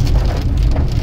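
Rain falls in a dense, continuous patter close by, with a low windy rumble beneath it, steady and loud for a moment with no voices.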